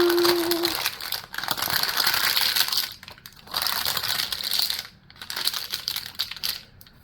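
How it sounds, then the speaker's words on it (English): A knife cuts slices of Bilbo's seed cake in several bursts of crumbly, crunching sawing, about four strokes separated by short pauses. The sound is close, with no talking. "Now we'll go ahead and cut 2 slices"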